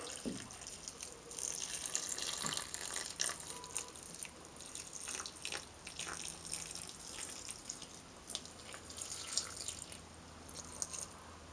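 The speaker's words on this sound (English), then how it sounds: "take the water" Water is poured from a container onto sprouting sunflower seeds in a garden, giving soft trickling and dripping splashes that come in irregular bursts, fairly quiet and close.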